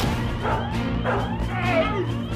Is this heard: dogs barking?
yes